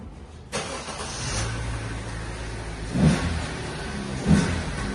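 A car engine idles steadily, then rises in two short revving bursts, close by and fairly loud against a steady low rumble, with no one speaking.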